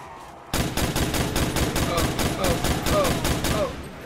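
Rapid, continuous automatic gunfire from shooting zombies in the Black Ops Nacht der Untoten zombies mode, a dense burst of shots lasting several seconds after a brief quiet start, loud and steady with no talk.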